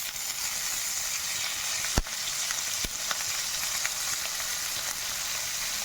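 Gongura (sorrel) leaves sizzle in a frying pan with tomato, a steady, bright frying hiss broken by a couple of sharp clinks from stirring. Close and continuous, with no talk.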